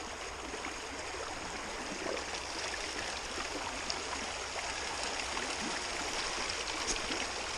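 Water pours from a pump in a continuous broad rushing stream, steady and fairly close, with no voices over it.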